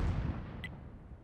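A self-propelled artillery gun fires in World of Tanks, leaving a loud, low booming rumble that fades out, with a short high-pitched ping partway through.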